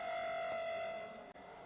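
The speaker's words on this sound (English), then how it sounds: "Ananya, any particular reason why the sirens are going off or they're being tested now today at 3:30?" A steady wailing civil defense siren tone holds at one pitch, fairly faint and distant, with a brief dropout near the end, during a mock drill in Delhi.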